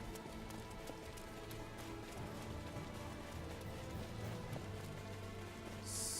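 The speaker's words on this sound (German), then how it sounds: "Ernsthaft, es regnet hier schon wieder?" Rain falls steadily in the video game Star Ocean 5, a faint, even patter with scattered drops ticking throughout, with no voices over it.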